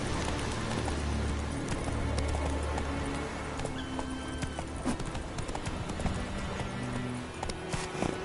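Roach the horse galloping in The Witcher 3, steady rhythmic hoofbeats pounding over ground beneath a dense bed of game ambience and music.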